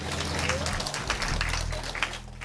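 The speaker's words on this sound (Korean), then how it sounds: "하나님께 영광의 박수 올려드립니다" A church congregation at a Wednesday worship service bursts into a short round of applause, with voices mixed in.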